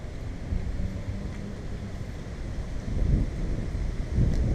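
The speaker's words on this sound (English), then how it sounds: "Very windy, cold front just blew through." Strong gusty wind after a cold front rushes steadily across the microphone outdoors, a continuous roar that swells louder near the end, with no speech.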